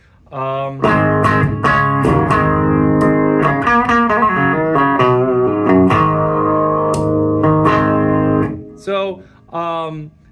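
An electric guitar plays sustained, distorted chords through an amplifier, loud and close, fading out with a few short strums at the end.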